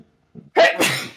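One sharp, close sneeze, a quick inhaled catch followed by a loud burst of breath, in the middle of a casual tabletop game session.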